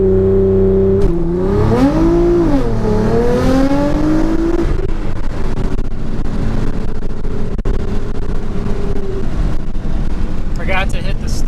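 Modded Nissan GT-R launching on a 0-60 mph run: a loud, close engine roar rising sharply, dropping at a gear change and climbing again, then settling into a steadier drone as the car backs off.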